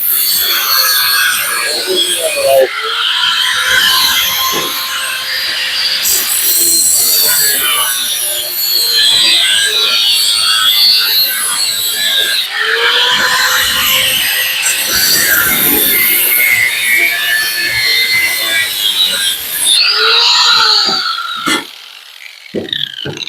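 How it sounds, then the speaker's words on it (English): A handheld button mini grinder cuts on a table, giving a loud, continuous abrasive whine and hiss that runs for over twenty seconds, broken by a few brief pauses and pitch dips. "These button mini grinders like this right here, they would shut off."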